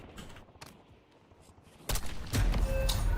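Video game gunfire in a Call of Duty-style shooter: sparse, faint distant shots at first, then a loud dense burst of rapid fire and blasts that keeps going to the end.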